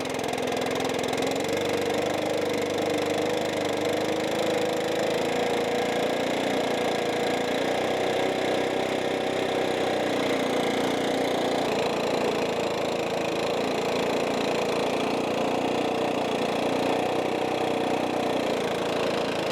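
A Stihl 4-Mix engine runs at a steady, loud, continuous drone with a buzzing tone while its carburetor is adjusted toward about 3,200 rpm, with no talk over it.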